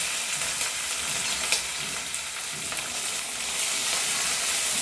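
Green chillies, peanuts and sesame seeds frying in oil in a pan give a steady, dense sizzle with crackling pops throughout, close up with no talking.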